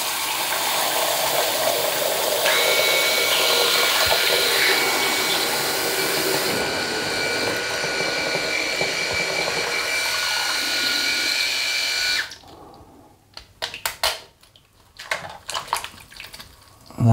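A Remington RX5 electric shaver buzzes steadily under a running water tap for about twelve seconds, a loud, continuous hissing whirr, then stops, leaving a few short sputters and splashes of water.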